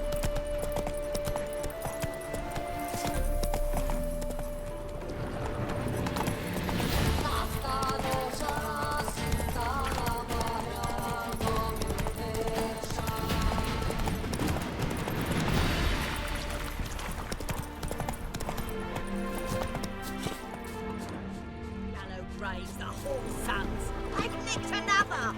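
A horse gallops in The Witcher 3: Wild Hunt, its steady clip-clop hoofbeats running under a continuous music score with brief spoken lines.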